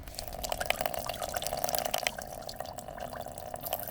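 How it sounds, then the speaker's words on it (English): Water poured over an Oukitel WP20 rugged phone, splashing and trickling steadily and close up for the whole stretch, with a constant bright watery hiss and no talking. "And let's give those IP ratings a test by covering the phone in water."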